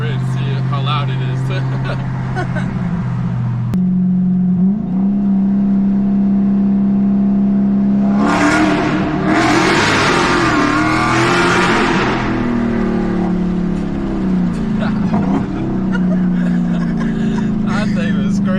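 A 1000 HP Dodge Hellcat idles with a deep rumble, then accelerates hard under a bridge, its engine climbing to a loud, raspy roar for several seconds before it settles back down, while people talk in the car.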